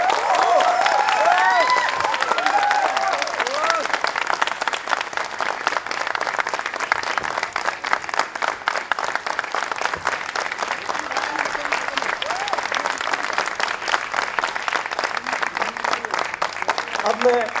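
Enthusiastic audience applause welcoming the director of the play Nagamandala onstage at the Bhartendu Natya Academy, dense continuous clapping from a large crowd that holds steady throughout.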